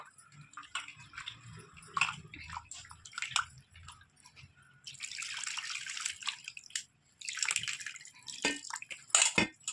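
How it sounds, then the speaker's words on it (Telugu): Soaked tamarind pulp is squeezed by hand in water and the juice poured off for a fish curry: wet squelching and dripping, then two longer bursts of splashing, pouring liquid close up, with no talking. "చింతపండులో నుంచి ఎంత రసం వస్తే అంత రసం తీసేసి పోసేసుకుందాం మనము"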